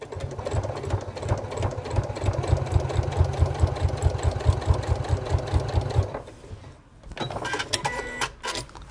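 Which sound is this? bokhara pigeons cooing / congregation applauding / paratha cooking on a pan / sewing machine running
sewing machine running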